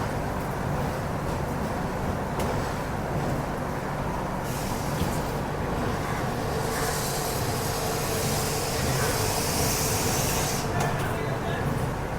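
The Chennai–Shalimar weekly superfast express, train 22826, pulls out of Visakhapatnam with a steady, loud rumble of rolling carriages and a broad hiss that swells midway, continuous for the whole stretch.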